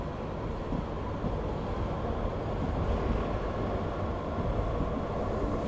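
A Frankfurt U-Bahn train in Train Sim World 2022 rolls along with a constant loud, dense rumble and grinding crunch of wheels on the rails, unbroken throughout with no voices.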